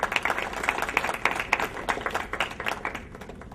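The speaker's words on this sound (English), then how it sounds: "by giving a clap, we will give them our respects." Audience clapping at a talk on laughter and meditation: dense, steady applause from many hands, moderately loud and continuous with scattered sharper claps standing out, no voices over it.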